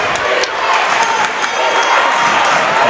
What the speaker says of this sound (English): Now the student sections start to come alive.